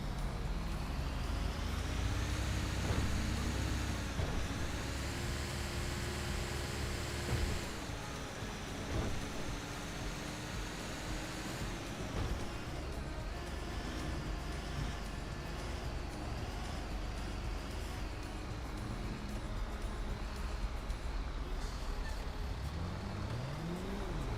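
A loud truck engine drones steadily in a GTA roleplay game, its pitch rising and falling with shifts and acceleration over a continuous low rumble.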